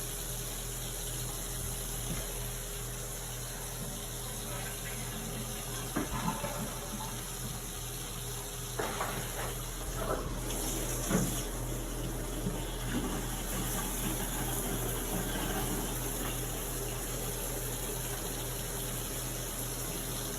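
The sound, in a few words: water running from taps to test drains in new house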